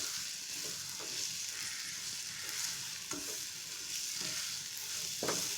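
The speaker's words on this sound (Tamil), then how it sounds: "சிம்மில் வச்சே நல்லா இந்த மசாலாவோட இந்த மா இஞ்சி கலந்து" Mango ginger sautéed with masala in a pan on a low flame gives a soft, steady sizzle with occasional stirring scrapes, faint and close.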